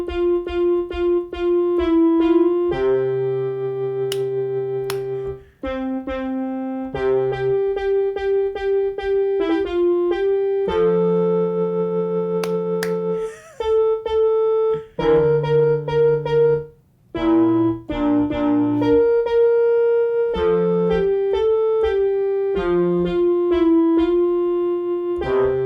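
Piano in a virtual-reality recital plays the children's tune If You're Happy and You Know It as a steady, bright melody with chords, pausing briefly between phrases and played alone without voices.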